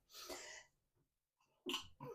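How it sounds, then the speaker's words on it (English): A single sharp sneeze bursts out, followed by a brief pause and a few quick breathy sounds afterward. "I'm going to sneeze here."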